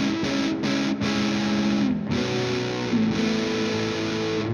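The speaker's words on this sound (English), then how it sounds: "Gonna put the amp on the dirty setting." A heavily distorted electric guitar through an amp on its dirty setting, boosted by a TC Electronic Spark Booster pedal, plays sustained, buzzing chords with a few brief breaks between them, loud and up close.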